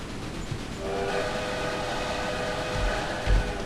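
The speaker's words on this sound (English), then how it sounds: "Give a blast of the whistle." A steam-era train whistle blast in the Railway Empire strategy game sounds over the steady rumble of a train on a hilly stretch near the coast, a sustained tonal blare holding for several seconds with no talk.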